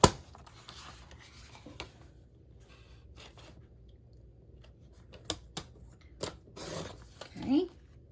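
Scissors cutting a piece from an old greeting card make a few short, soft snips and scrapes with quiet gaps between them, close by and fairly faint.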